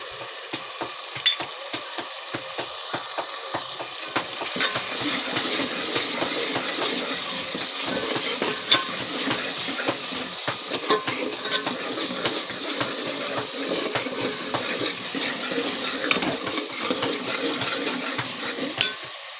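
Onions and tomatoes fry in a pan for panchkuti dal, giving a steady, close sizzling hiss with small scrapes and knocks of stirring throughout, no voices heard.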